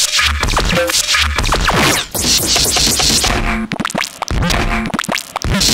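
A Eurorack phonogene module plays back a spliced string of funny sounds: loud, choppy bursts of scratchy, warbling and squelching fragments cut abruptly one after another, with a few short gaps.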